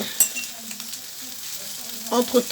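Tomato coulis cooking in a pan with fish and peppers gives a steady, soft sizzle with light stirring scrapes, swelling into a few louder bursts near the end; no talk is heard.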